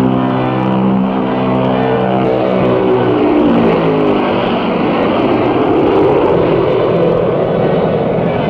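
Convair B-36 bomber engines droning in a continuous loud, steady roar with rising and falling tonal harmonics, sustained throughout with no voices.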